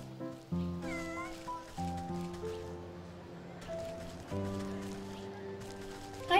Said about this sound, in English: Hi, kitty. This cat deserves a treat.